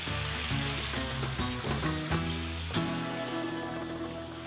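Burger patties sizzle steadily in a hot pan, a constant bright crackling hiss with low music-like tones underneath and no talking.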